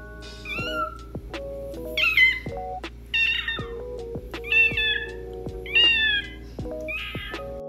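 A person imitates a cat, giving a series of high, wavering meows, about five in a row with short pauses, close and fairly loud.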